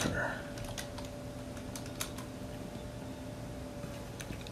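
Typing on a computer keyboard at a desk, with quick scattered keystrokes clicking lightly and steadily over a faint background hum.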